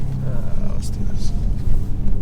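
A 2019 widebody Dodge Challenger R/T Scat Pack accelerating hard, its loud engine rumble roaring steadily from inside the cabin with a brief voice shout over it.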